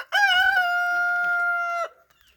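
A rooster on an egg farm gives a single loud, close crow: one sustained, steady call of nearly two seconds, heard alone with nothing around it.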